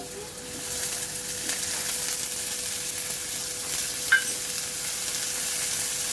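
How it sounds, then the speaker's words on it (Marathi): Mixed vegetables for a veg samosa filling (potato, peas, cabbage, capsicum, carrot, spring onion, garlic) sauté in a pan, a steady broad sizzle with occasional light stirring scrapes and one brief clink, no talking. "आपल्याला ह्या भाज्या हलक्या हलक्या परतून घ्यायच्या आहेत"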